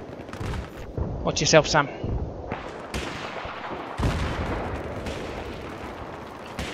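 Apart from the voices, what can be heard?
mortar fire in the video game Battlefield 3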